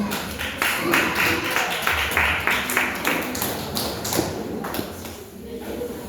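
A church congregation claps together in praise to the Lord, keeping a steady, even beat of many hands that stays moderately loud and fills the room throughout.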